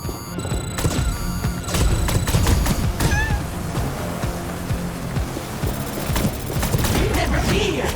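Dense, loud gunfire from a sci-fi video game, Revenge of the Savage Planet, with rapid shots layered over constant game noise, synthetic chirps and other effects, and no pauses across the stretch.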